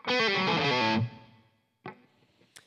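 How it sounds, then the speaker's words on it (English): A short distorted electric guitar lick from the verse of a song, a quick run of notes ringing out and fading, followed by a couple of faint string noises. "there's this neat kind of lick that's played after the chords the second time through"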